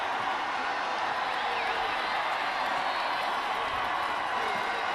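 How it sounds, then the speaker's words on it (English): A football stadium crowd cheers and roars continuously at a college game between Arkansas-Pine Bluff and Tennessee State, a dense, loud wash of voices with scattered whoops and clapping. "Crowd's into it too."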